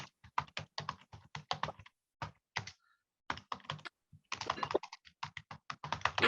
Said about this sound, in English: I'm just typing an answer here to Amy Crawford